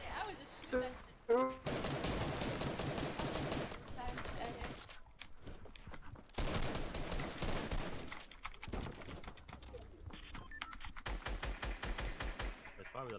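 Gunfire rattles through a video game shootout in long rapid bursts separated by brief pauses, loud and close, with players talking over it.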